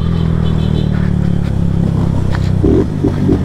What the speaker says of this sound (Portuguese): a moto fica muito forte com esse Dory